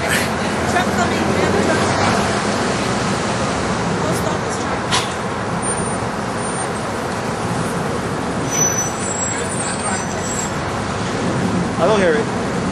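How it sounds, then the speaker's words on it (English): A truck rumbles loudly along the road, its broad engine and tire noise filling the scene, with a faint brief squeal near the end. "Truck coming."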